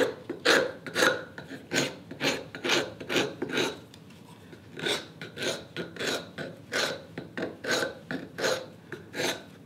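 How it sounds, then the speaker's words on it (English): A hand scraper works a wooden marking gauge part in steady rasping strokes, about a dozen short scrapes in two bursts with a brief pause between, close and alone. "I still have to go with the scraper though."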